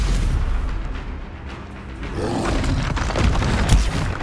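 A Bombarda spell explosion in Hogwarts Legacy bursts amid spell combat: a run of booms and crackling blasts with rumbling debris, ending in a heavy, loud impact near the close, with no voices.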